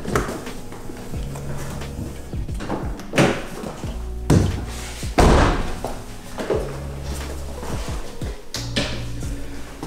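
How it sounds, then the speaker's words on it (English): Vehicle doors opened and shut during a paint protection film install, several heavy thunks and slams spread across the span, close and loud, with no talk. "Let's open doors."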